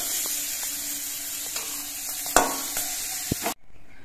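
Chickpeas fry in oil in a karahi, a steady close sizzle punctuated by a few spoon scrapes and knocks as they are stirred, then the sound cuts off abruptly.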